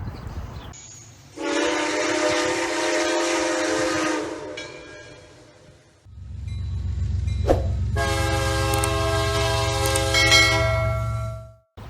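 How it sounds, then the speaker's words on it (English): A freight train rumbles past on a freight line at a Saturday evening railfan spot, sounding two long, loud horn blasts close by over the steady roar of the passing wagons. "I am out watching trains, or at least hopefully watching trains"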